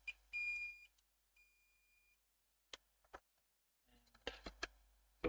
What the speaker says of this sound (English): Bring up the meter, turn it on to continuity,